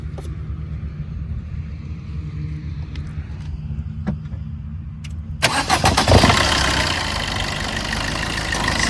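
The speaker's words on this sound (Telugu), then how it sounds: "సింగిల్ సెల్ఫ్లో స్టార్ట్ అయిపోతుందండి టోటల్." A Maruti Brezza ZDI+ in tight, leak-free condition sits quietly before its engine cranks and catches on a single start, then settles into a steady, loud, close idle hum.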